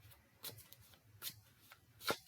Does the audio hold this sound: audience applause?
no